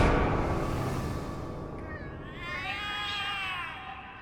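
Cats meowing and caterwauling in the video game The Cat Lady, several drawn-out wavering cries that rise and bend in pitch over a steady dark ambient drone, moderately loud and close.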